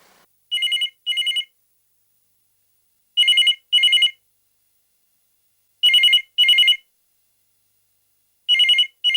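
A telephone rings in clear electronic double trills, four evenly spaced pairs separated by silence, loud and alone with no one speaking.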